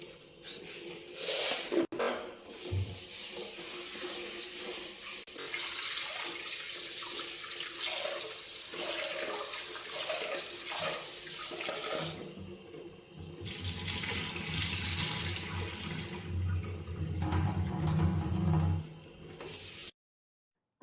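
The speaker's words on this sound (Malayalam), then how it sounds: "ആദ്യം സാമ്പാർ ഉണ്ടാക്കാനായിട്ട് കുറച്ച് പരിപ്പ് എടുത്ത് നമുക്ക് കഴുകിയെടുക്കാം" Lentils being rinsed for sambar under a running kitchen tap, water splashing steadily into a vessel with sloshing and swirling, briefly pausing before the flow resumes, a faint bird chirp in the background.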